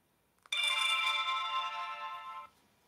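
A CammHD body camera gives a loud electronic power-on tone, a steady harmonic beep that sounds alone for about two seconds, then cuts off abruptly.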